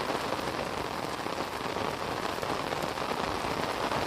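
Heavy rain pours down in a dense, unbroken roar, drumming steadily on a surface close by.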